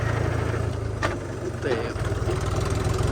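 A tractor idles steadily in a field being puddled for planting, its low, even engine throb running close and unbroken throughout while people talk nearby.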